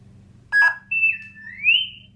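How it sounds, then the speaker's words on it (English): A short electronic beep from a custom Mace Windu lightsaber's Plecter Labs CF soundboard menu, followed by a sliding, warbling synthetic tone that dips and rises, clear and close against near silence. "what you kind of get is this a different beep sound on the menu"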